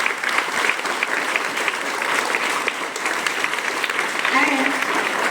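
Audience at a school investiture ceremony applauding the newly named head boy, a steady, dense roar of many hands clapping that holds evenly for several seconds with no pauses.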